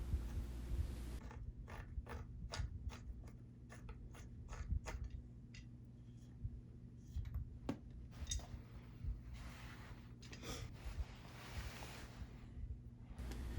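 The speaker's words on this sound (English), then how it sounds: "This requires loosening the two bolts in the arm with the 5mm hex bit and removing the dust cap with the bottom bracket tool." A 5mm hex bit loosens the two crank arm bolts on a bicycle, then a bottom bracket tool takes off the dust cap, giving quick ratcheting clicks and metallic ticks in bursts, close and fairly quiet, with no talk.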